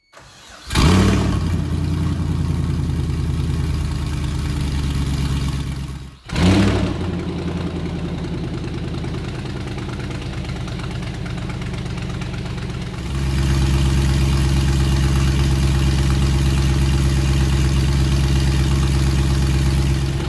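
A Nissan 240SX engine, in a badly damaged salvage car, cranks and starts, cuts out, restarts and idles steadily, then runs louder and rougher near the end; close and continuous, no talking.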